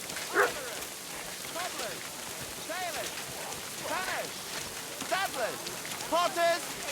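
Steady rain falls in a medieval town scene in the video game Kingdom Come: Deliverance II, a soft, constant hiss under scattered voices and a few short calls.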